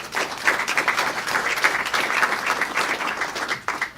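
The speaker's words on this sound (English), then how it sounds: "Let's give them a round of applause." Dense, steady applause from an audience at an Opportunity Coalition event with Chris Wright of Liberty Resources, a continuous wash of many hands clapping at even loudness throughout.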